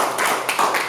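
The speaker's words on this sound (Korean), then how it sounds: "와, 박수 한번 쳐주세요." Brief burst of audience clapping at a seminar, steady and close, without a clear start or end.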